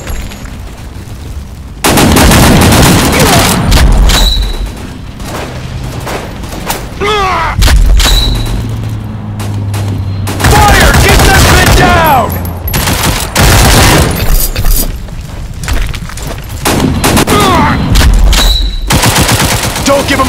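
Rapid automatic weapon fire in a WWH death match shooter game, long sustained bursts of loud, close gunshots with brief gaps, scattered bangs and a few short voice callouts between volleys.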